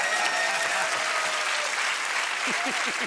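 A studio audience applauds at a German masked-singer TV show, a loud continuous wave of clapping with voices and laughter mixed underneath.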